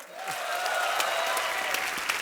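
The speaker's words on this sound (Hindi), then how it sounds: "जोरदार तालियां" A burst of enthusiastic applause from the studio audience of The Kapil Sharma Show, steady clapping filling the short moment without any speech.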